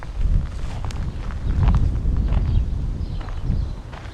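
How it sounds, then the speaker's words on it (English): Gusty wind sweeps across a completely flat, open area, buffeting the microphone in uneven low surges with a few scattered light thuds and rustles, no talking. "Wind is getting up a little bit."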